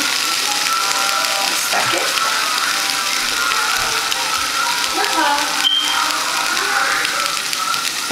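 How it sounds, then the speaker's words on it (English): Tap water runs steadily while oily hands are washed in a home kitchen, a continuous even rush of spray that holds level from start to finish with no voice over it. "washing my hands because of the oil that I have in my hand"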